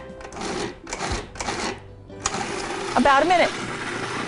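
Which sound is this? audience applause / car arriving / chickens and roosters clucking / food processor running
food processor running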